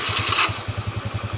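A carbureted Honda Beat scooter engine fires up after being switched off, catching quickly and settling into an even, close, low-pitched idle thump with a brief higher-pitched rush at the start.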